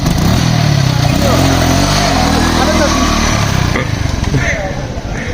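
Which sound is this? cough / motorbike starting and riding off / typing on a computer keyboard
motorbike starting and riding off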